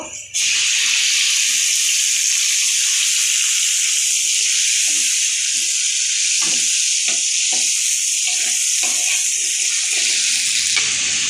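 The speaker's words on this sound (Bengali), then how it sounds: "আদা রসুনটা ভালো করে তেলের উপরে ভাজা শেষ।" Ginger and garlic fry in oil in a pan while hilsa fish is being cooked, a loud, even, continuous hiss that starts abruptly and holds steady up close, with faint clinks and scrapes beneath it.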